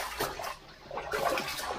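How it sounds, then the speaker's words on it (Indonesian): Water gurgles and rushes in an underground cave, a short, close, echoing flow with no voices. "Ada rembesan airnya, Om."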